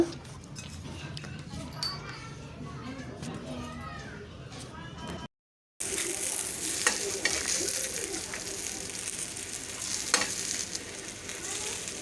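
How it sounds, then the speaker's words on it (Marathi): Coriander fritters (kothimbir vadi) frying and sizzling in a pan with a steady hiss, joined by stirring and faint utensil clinks, under a woman's speech, with a brief gap midway. "इथं वड्या आपल्या फ्राय झालेल्या आहेत व्यवस्थित आपल्याला काय करायचं आहे पलटी करून घ्यायचे आहेत"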